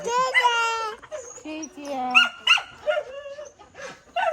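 A dog barks a few times close by, mixed in with people talking over it, at a home with chickens around.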